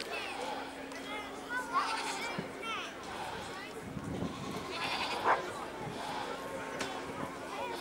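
Angora goats bleat at a goat judging competition, with several scattered bleats at moderate distance over crowd chatter and a background voice.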